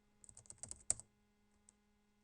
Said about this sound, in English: and then we can type wget and paste in the URL